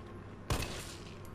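A single sharp gunshot from a handgun in the Resident Evil remake game, one loud crack over a low background hum, ringing briefly before fading.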